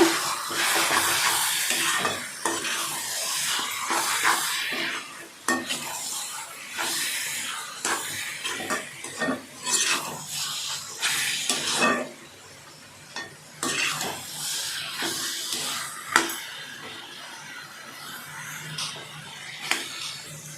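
Chicken kurma with garam masala and fennel powder sautéing in a pan, a close sizzle and hiss with repeated scraping strokes of a spoon stirring, pausing briefly between bursts, with no talk.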